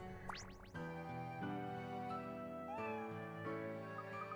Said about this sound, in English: Sorry, it's my cat. It must be supper time.